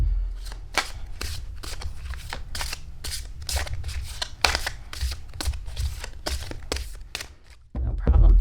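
Oracle cards from a moon-themed deck being shuffled by hand, a steady run of crisp riffling bursts at close range over a low background hum, ending in a brief pause.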